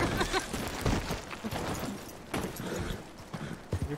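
Horse hooves from a cowboy video game clatter in an uneven, busy rhythm alongside scattered thumps and game noise, moderately loud and close.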